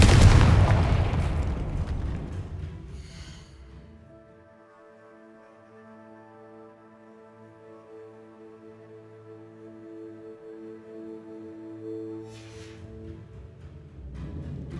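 A Confringo spell in Hogwarts Legacy bursts with a heavy, booming explosion that rolls away into a long ringing tonal tail, and a second blast arrives near the end.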